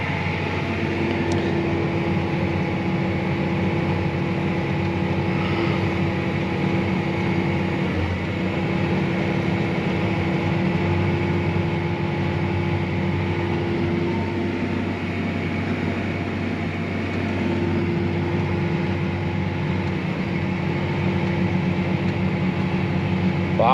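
A John Deere 9560R tractor with a 13.5-liter Deere engine pulling a chisel plow across a field, heard from inside the cab as a constant droning engine hum with no breaks.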